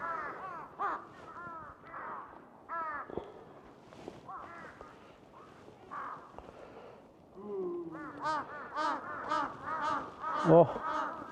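Crows caw repeatedly in a snowy outdoor spot in northern Japan, a run of harsh, rhythmic calls that grows louder and denser toward the end, mixed with people talking nearby.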